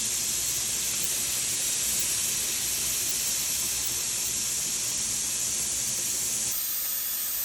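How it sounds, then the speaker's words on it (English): Steam vents from a canning pot in a loud, continuous hiss that holds steady throughout and shifts in tone near the end, with no one talking. "we have a big column of steam that is coming out of our vessel here"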